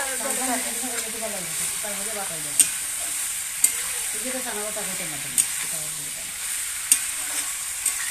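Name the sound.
meat curry stirred in iron wok on clay stove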